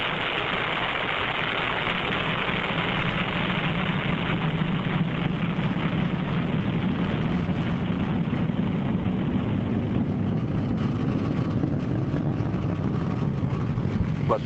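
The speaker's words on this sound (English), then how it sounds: "Liftoff of the first flight of the Delta IV Heavy rocket" Delta IV Heavy rocket at liftoff, a broad, steady, loud roar of rumbling noise that stays constant and dense throughout, with no voices over it.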